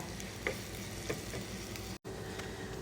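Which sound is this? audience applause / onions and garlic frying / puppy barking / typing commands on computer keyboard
onions and garlic frying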